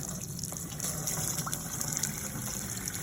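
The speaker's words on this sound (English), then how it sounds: "get the hose running here" A garden hose running water onto drain fabric in a crawl space French drain, making a steady, continuous close rushing and splashing with no pauses.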